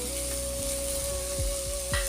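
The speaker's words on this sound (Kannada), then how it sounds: "ಈಗ ಪನ್ನೀರ್ ಹಾಕೊಳ್ಳೋಣ." Paneer cubes sizzle steadily in a hot pan for a spicy thecha paneer rice, with a few soft stirring knocks and scrapes breaking through the even frying hiss.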